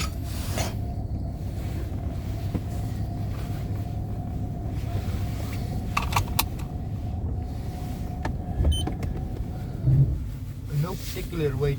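A Mercedes-Benz W126 car drives off after a cold start, its engine and road noise humming steadily with some wind buffeting, and a faint, brief voice partway through.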